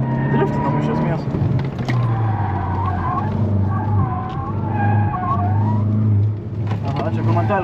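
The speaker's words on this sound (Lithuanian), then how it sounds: "Driftinam iš esmės." Rally car in a press rally drifting sideways on a gravel stage, the engine revving hard and rising and falling in pitch beneath loud tire and gravel noise, with occupants talking throughout.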